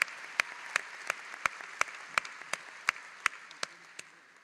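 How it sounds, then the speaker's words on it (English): An audience at a Wayne State University commencement ceremony applauds after the national anthem. The clapping is steady, with sharp, evenly spaced claps standing out over the crowd's softer wash of applause. No one talks. "So let's give her another round of applause because that was pretty incredible."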